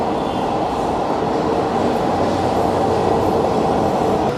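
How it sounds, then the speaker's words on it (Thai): A metro train on Bangladesh's first metro line runs in steady, continuous rumble, a loud, even rolling roar with no breaks and no voices. "เรามาดูรถไฟสายแรกของบังกลาเทศครับ"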